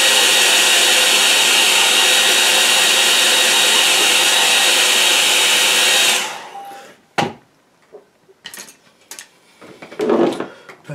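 A hair dryer blows steadily and loudly on a drying watercolour painting for about six seconds, then cuts off, leaving quiet brush taps and small handling sounds.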